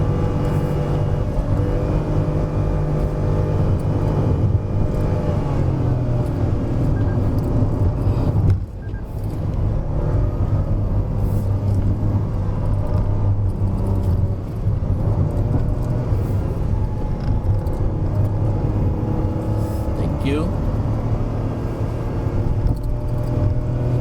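A Perodua Ativa 1.0 turbo car pulls up Genting hill in second gear, its engine droning steadily and loud from inside the cabin, with a brief dip partway through.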